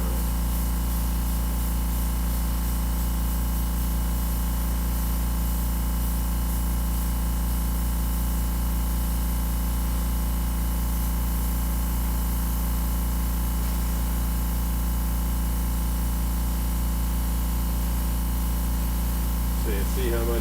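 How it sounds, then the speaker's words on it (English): Airbrush spraying paint over graphics artwork, a steady continuous hiss with a low hum underneath that runs unbroken and fairly loud throughout. "You don't want to start your airbrush over the artwork, because then we will"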